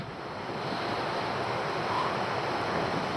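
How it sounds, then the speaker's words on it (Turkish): Rough, swollen sea surges along the rocky Lycian coast during rain, a steady heavy roar of surf mixed with wind noise. "Deniz iyice kabardı."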